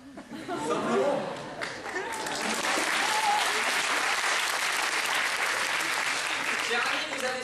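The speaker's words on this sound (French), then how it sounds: "vous avez sûrement financé une partie de la salle pour que ces applaudissements soient si généreux" An audience at a debate and eloquence contest at the ENA claps after a speech. A little chatter and laughter comes first, then the applause swells into loud, sustained clapping that runs to the end.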